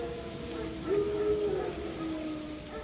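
Wild dogs howling in the video game The Witcher 3: Wild Hunt, a faint distant wavering howl rising briefly over rain-like background ambience.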